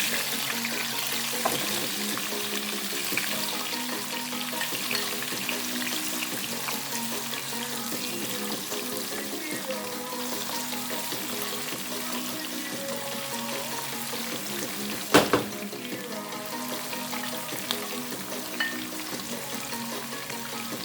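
Liquid simmering in a pot for a Thanksgiving turkey recipe, a continuous low bubbling hiss that holds steady, with one brief clatter near the end.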